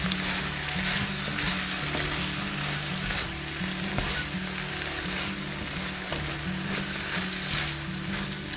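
Pork sisig sizzling and frying steadily in a pan, a constant close crackle lasting throughout with no talking.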